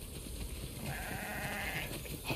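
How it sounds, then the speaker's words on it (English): Sheep bleating in The Last of Us Part 2 video game, a farm flock heard as a few soft, brief calls in a continuous, moderately quiet ambient game soundscape. "We definitely have way too many sheep."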